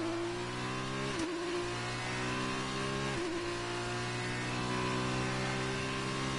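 Formula 1 cars racing at Sao Paulo, a sustained high engine whine held near and loud, with two sharp gear-shift dips in pitch, no speech heard.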